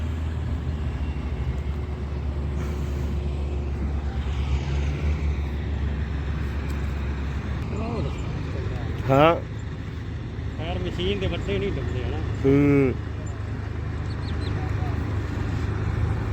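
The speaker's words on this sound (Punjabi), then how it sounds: "ਇਹ ਦੂਜੀ ਕੰਬਾਈਨ ਅੱਗੇ ਕਨੰਗੀ ਆ ਆ ਦੂਸਰੀ ਆ ਰਹੀ ਆ" Combine harvester engine rumbling while the machine drives through a river crossing, a steady low drone throughout with a second combine approaching; voices speak intermittently over it.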